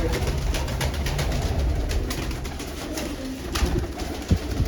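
Soft, repeated cooing of a red and black female pigeon nearby, low throaty calls over a steady background hum.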